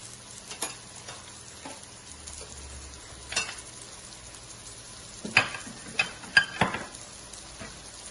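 Ground spices, including coriander powder and garam masala, frying in a pan for palak paneer, a soft crackling sizzle with scattered stirring clinks and scrapes, louder bursts near the end.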